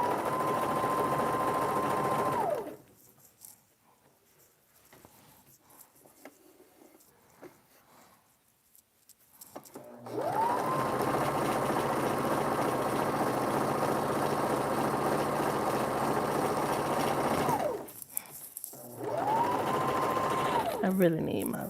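A home sewing machine stitches the raw edge of kitchen curtain fabric on a bouncing table, running loud and steady in three long bursts separated by a quiet pause.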